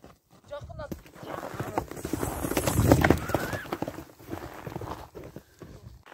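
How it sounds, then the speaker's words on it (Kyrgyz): A saddled horse being ridden, hooves clip-clopping in an uneven rhythm on frozen ground, close by, while people talk over it. "Экинчи номердеги ат мынакей даяр болуп, токулуп, минилип башталды."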